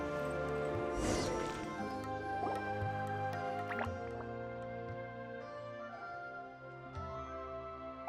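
Water droplets drip in Genshin Impact's Glaze Domain event area, a few soft, wet plinks spaced out over a steady bed of layered game music, with no voices.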